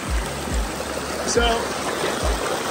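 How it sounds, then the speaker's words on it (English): Water streams and trickles over driftwood in a pondless backyard waterfall at night, a continuous splashing wash under periodic low thumps, with someone briefly speaking. "water is coming through and there's the air between it"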